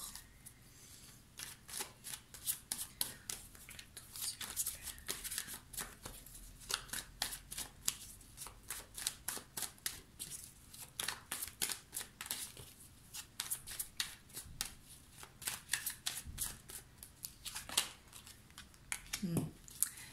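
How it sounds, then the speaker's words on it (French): Tarot cards being drawn and shuffled from a deck: rapid, close papery flicks and snaps in dense bursts over a quiet background, with brief pauses between handfuls. "Ici, je vais tirer une carte sur la tour."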